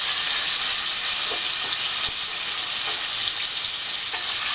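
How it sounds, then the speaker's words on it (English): Caramelized onion and apple hit about two spoonfuls of hot pork fat in a pan, giving a loud, steady hiss and sizzle that carries on unbroken with no talking. "in my pan, I have about 2 of these spoonfuls of the pork fat, to which I am going to add the caramelized"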